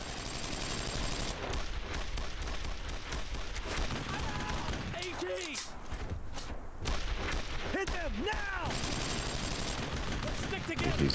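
Dense bursts of rifle and machine-gun fire in the World War II game Brothers in Arms: Road to Hill 30, with constant rapid shots and booms over a player talking.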